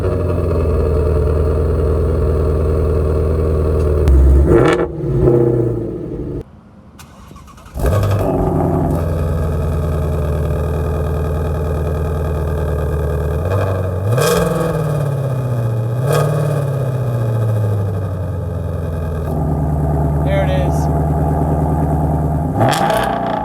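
A 2018 Ford Mustang GT350 with quad tailpipes, its exhaust rumbling loud and close through repeated revs and idle, briefly dropping away before surging back and swelling again with rising engine pitch.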